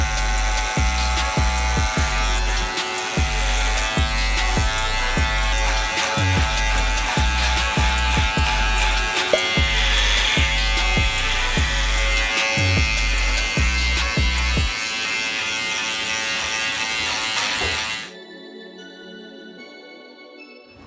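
A Gamma Rebel hair clipper fitted with a number 2 guard buzzes close up during a buzz cut, a loud steady hum with rhythmic pulsing as it passes through hair, then cuts off near the end.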